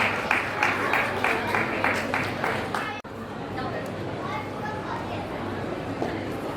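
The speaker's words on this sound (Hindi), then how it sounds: "जोरदार तालियां।" Loud applause from an audience at an award ceremony during a Khandelwal Digamber Jain community gathering in Rohini, rhythmic clapping for about three seconds, then giving way to a busy hum of crowd chatter.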